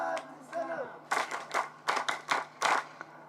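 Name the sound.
audience clapping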